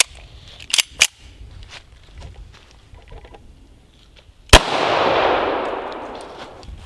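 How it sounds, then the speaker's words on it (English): .50 caliber rifle fires a single sharp, loud gunshot close by, followed by a long fading rumble, after a few earlier sharp clicks and knocks. "Shoot again, Kyle?"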